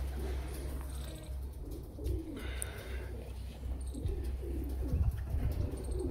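Pigeons from breeding pairs of high-flying birds coo steadily and fairly close, with soft chirps mixed in over a constant low hum.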